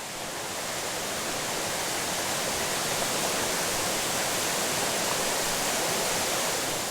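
Yeonsan Falls, a waterfall ringed by striking rock formations in the Naeyeonsan valley near Pohang, pours as a steady, dense, full-bodied roar of rushing water that holds evenly throughout with no voices.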